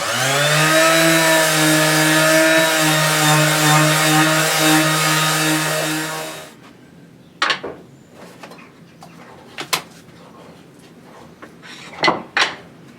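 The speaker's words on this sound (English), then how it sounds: "use my electric sander just to sand off this finish that's been this old varnish stain that's been on the surface" An electric sander stripping old varnish stain off a wooden surface: a loud, steady motor whine runs for about six seconds, then cuts off, leaving quiet handling knocks and clatters of wood.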